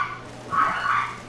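Dogs barking in a video game, a faint, muffled pair of short barks or yips heard at a distance over a steady background hum.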